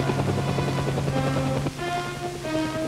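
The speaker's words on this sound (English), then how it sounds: "Navy, Marine, and Air Force helicopters performed the vital missions of rescue and the distribution of supplies." Navy, Marine and Air Force helicopters flying relief missions in 1963 make a steady, droning rotor and engine hum with a slight shift partway through, continuous and fairly loud with no speech.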